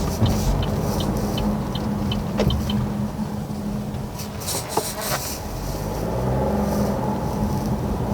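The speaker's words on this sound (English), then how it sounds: "Great acceleration, feels super quick." A 2025 Chevrolet Trailblazer FWD LT accelerates from inside the cabin, a steady moderate engine drone with a few faint clicks and thumps, no talking.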